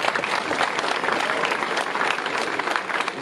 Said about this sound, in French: j'aimerais qu'on les applaudisse pour tout ça.